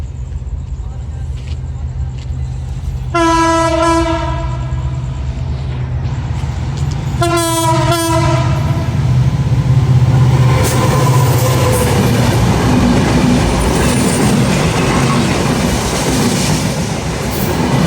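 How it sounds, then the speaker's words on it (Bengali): The Chilahati Express blasts its horn in two long harmonic toots while approaching a rail gate, then thunders past with a loud, building rumble and wheel clatter; a voice talks over the passing train. "একেবারে ধুলো উড়িয়ে শ্যাম্পু রেলগেট থ্রু পাস করে গেল"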